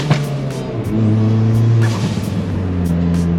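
A turbocharged car engine under high boost revs and drops across a gear change, a steady rising drone breaking and then resuming, loud and close with no talk.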